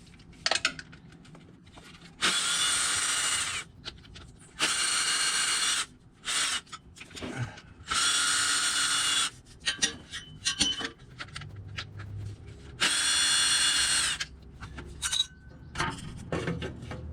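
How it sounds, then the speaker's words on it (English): A power tool whirs in repeated bursts of one to two seconds, removing nuts around the transmission pan of a 2015 Chevy Colorado with a GM 6L50 transmission, with clinks of nuts and metal between bursts. "So now basically I'm taking all the nuts out from around the"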